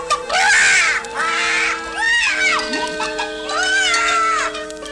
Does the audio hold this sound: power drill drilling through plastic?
no